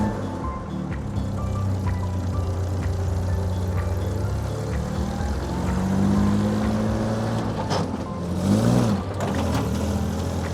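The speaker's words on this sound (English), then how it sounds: "Tried taking off in second because first was very aggressive." A 1969 Jeep CJ5 with a poor clutch pulls away in second gear: a close, steady engine drone that strains and rises in pitch, with a brief lurching surge near the end.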